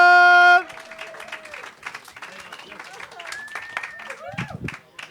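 A comedy club audience applauds and cheers as a comedian takes the stage: a burst of clapping and whoops follows a loud musical tone, with shouts and voices mixed into the crowd noise.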